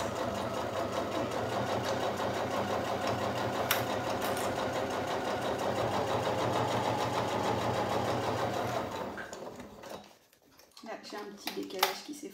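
Domestic sewing machine stitching a straight seam along the edge of a Loopy backpack, a steady rapid mechanical whirring and ticking for about nine seconds, then stopping abruptly, followed by quiet handling noises.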